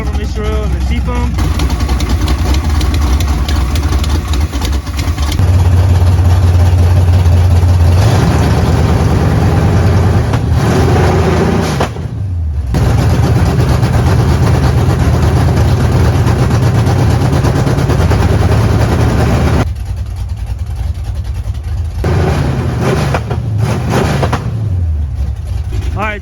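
A stroker engine in a truck idles steadily with a deep low rumble, its carburetor fogged with Marvel Mystery Oil and Seafoam. The engine revs up a few times and then settles back to idle, with a brief dip partway through.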